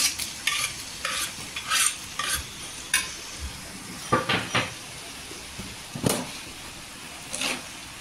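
Onion and tomato in oil for a spicy Malvani-style dried mandeli fish curry, a soft frying sizzle under repeated scraping and stirring strokes of a spoon in the pan, with a few clanks.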